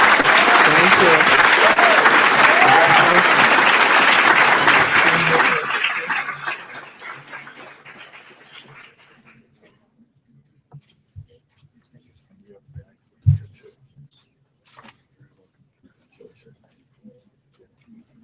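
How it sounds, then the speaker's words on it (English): Loud audience applause at a fall commencement ceremony honoring intern awards, dense and sustained for about five seconds before tapering off, followed by near-quiet room tone with a few scattered sounds and a brief spoken thanks. "So a round of applause for a Professional Growth Award."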